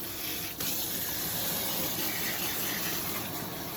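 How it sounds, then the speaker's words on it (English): A salon sprayer or faucet rinses bleach out of a client's balayage-lightened hair in a close, continuous hiss of running water, with one brief dip near the start. "I'm just gonna go ahead and rinse her out"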